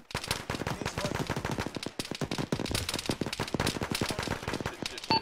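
Dense, rapid gunfire from automatic weapons in the military shooter game Arma during a ShackTac squad session, loud and continuous with sharp overlapping shots throughout.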